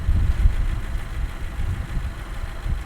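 A vehicle with studded tires sits high-centered and stuck in mud on a trail, its engine droning low and steady while the wheels spin without traction, the rumble rising and falling slightly throughout with no talk.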